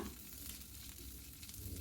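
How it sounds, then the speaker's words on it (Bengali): Long beans fry in white oil in a wok, giving a faint, steady sizzling hiss with a low background rumble and no voices. "সাদা তেলের মধ্যে বরবটিগুলোকে আমি ভেজে নেব"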